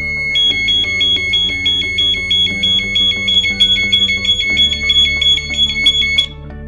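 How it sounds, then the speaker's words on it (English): Laser Shield home alarm siren sounding after a panic alarm is triggered: a loud, steady electronic tone with a rapid pulsing warble, running continuously for about six seconds before cutting off near the end. "test the system by triggering a panic alarm and let the siren ring at least 5 seconds"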